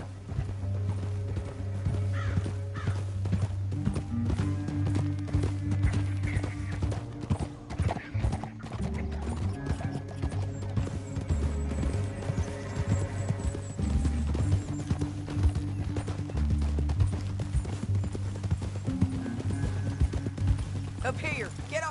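Horse hooves clip-clop at a gallop throughout in Red Dead Redemption 2, with occasional whinnies, over a steady low music bed and sporadic voices.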